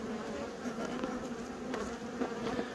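Bees buzzing around a hive on Dartmoor, a steady droning hum with individual insects passing close and fading, quiet and continuous, no speech.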